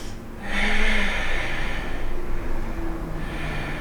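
A steady exhaled breath during a yoga flow, close and soft, with a breathy hiss lasting a few seconds over a low background hum.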